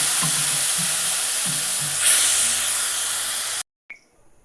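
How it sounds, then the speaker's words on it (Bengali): Amla (Indian gooseberries) poured into hot oil give a steady, loud frying sizzle and hiss with soft stirring clatter, then the sound cuts off abruptly near the end, leaving a brief faint tap. "আমলকিগুলো ঢেলে দিচ্ছি"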